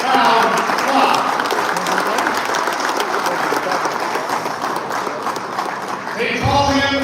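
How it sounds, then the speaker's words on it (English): A crowd at a boxing press conference applauds in a loud, sustained wash of clapping, with voices mixed in and a voice rising over it near the end. "big round of applause once again for Aleem"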